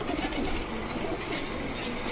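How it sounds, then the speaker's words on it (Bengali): A red-colored female pigeon coos softly amid steady, dense background noise with a faint rail-like rumble, the cooing blending into a continuous low murmur throughout. "একদম টকটকা লাল গিয়ারের একটা মাদি কবুতর"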